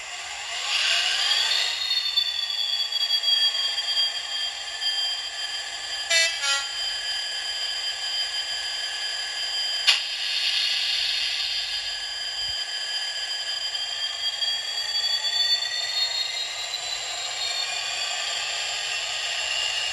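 A Bachmann Class 66 model diesel locomotive sound plays through a small speaker: a steady engine drone with a horn-like tone, fairly loud and continuous, no voices.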